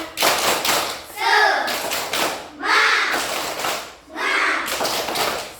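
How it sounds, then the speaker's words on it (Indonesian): Children in a classroom perform the tepuk semangat clapping chant, with three bursts of rhythmic claps and taps each mixed with chanted voices, separated by short pauses. "Kurang semangat lagi sekali. Tepuk semangat."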